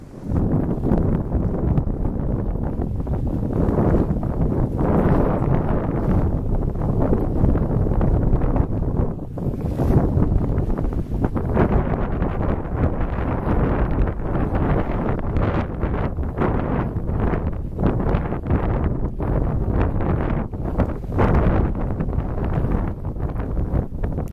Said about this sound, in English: The breeze continues to freshen